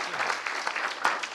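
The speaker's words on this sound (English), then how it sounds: "Yes, clap for that." Audience at a Black media panel clapping, a brief patter of scattered applause with a few louder individual claps, fairly faint and short.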